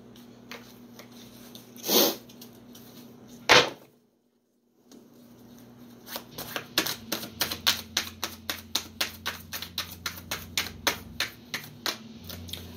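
Tarot cards riffle and snap in a quick run of crisp rustling flicks, close by, after a couple of isolated thumps and a short pause.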